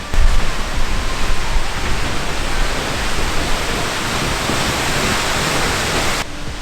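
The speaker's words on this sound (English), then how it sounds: "So here we are at the waterfall." A waterfall in Iceland, beside icy steps, roars with a loud, steady, close wash of rushing water that holds constant from start to finish.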